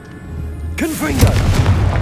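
A Confringo blasting spell in Hogwarts Legacy: a sudden booming burst with crackling, whooshing tail, loud and close, after a brief low hum, with a voice overlapping the blast.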